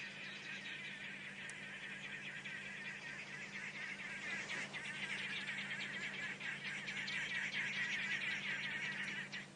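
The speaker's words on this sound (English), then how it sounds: "As does the cry of the arrow-marked babbler" Arrow-marked babbler calls out in the African bush at dusk, a faint, continuous chattering chorus with a low steady hum beneath it, growing a little louder toward the end.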